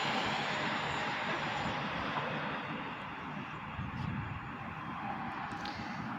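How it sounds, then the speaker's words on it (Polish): An Impuls electric multiple unit pulls into Warszawa Włochy station on the S1 line, a steady, loud rumble of wheels and traction noise that holds evenly throughout with no pauses. "wjazd Impulsa mewaga na S1 do Pruszkowa"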